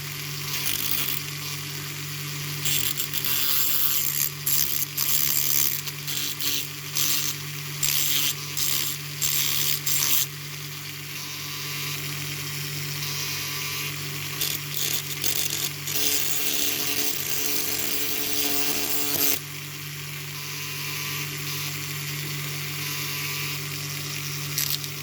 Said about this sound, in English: Trying to hold back the wheel and grind at the same time.